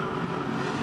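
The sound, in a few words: XB GT Coupe touring race car, onboard at Bathurst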